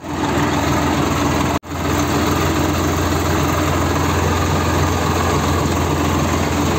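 A tractor idles after being pulled out of a puddled, waterlogged paddy field. Its engine rumbles steadily and loudly up close, with one brief dropout, and no one speaks.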